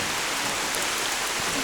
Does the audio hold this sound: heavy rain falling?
yes